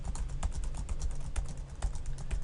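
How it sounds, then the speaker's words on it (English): Steady typing on a computer keyboard, a dense run of quick, closely spaced key clicks at close range with no voices. "You can probably hear my keyboard, but you can see it's not typing anything."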